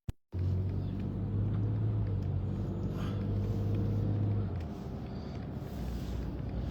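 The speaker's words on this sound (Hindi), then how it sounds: "ये मैं जो है ना 4x4 गाड़ी अभी इस वक्त चला रहा हूँ" A 4x4 vehicle drives along snowy roads after a snowstorm in the New York and New Jersey area. Its low engine and tire rumble stays close and steady, then eases slightly partway through.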